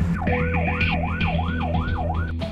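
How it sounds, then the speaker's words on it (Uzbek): An ambulance siren wails in a steady rising-and-falling cycle, about six sweeps in quick succession, loud and close over low traffic rumble, with no talking. "tez yordam ovoz chiqtiribdi"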